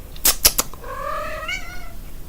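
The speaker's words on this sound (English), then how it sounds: "Yeah, you like being pet? Yeah, good kitty." A cat gives a clear, rising meow just after a few sharp rustles or taps, close and alone with no talking.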